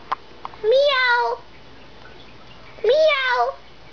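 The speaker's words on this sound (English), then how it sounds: "There's the kitty!" A cat meows twice, drawn-out and rising, fairly close and clear, with a quiet gap between the calls.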